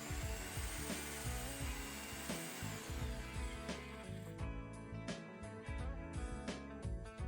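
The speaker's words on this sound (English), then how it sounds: "Then drill a hole in the center of the base that you're going to use." A power drill bores a hole through the centre of a base, a steady grinding whir with rhythmic bumps from the bit biting into the material, running throughout fairly close to the mic.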